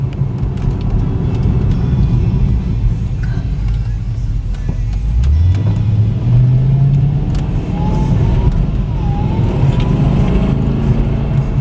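A salvaged 2009 Cadillac CTS-V with no warning lights on, accelerating on the road: a loud, steady engine rumble climbs in pitch as it speeds up, with continuous road and cabin noise throughout.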